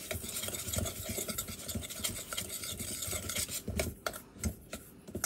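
A spoon works steadily through a spice mix of cayenne pepper and brown sugar, giving quiet, rhythmic scraping and light clinks against the bowl, with no talk.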